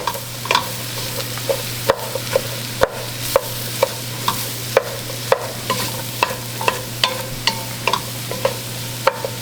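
A pot of Louisiana seafood gumbo cooks over an open fire, with a steady low hum under repeated sharp clinks and scrapes of stirring at an irregular rhythm, close up and with no talking.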